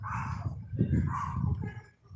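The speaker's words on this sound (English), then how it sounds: "Beautiful dog." A dog barks a few times nearby on a Colombian street at night during the Noche de las Velitas candle festival, with a continuous low hum of background crowd noise under the barks.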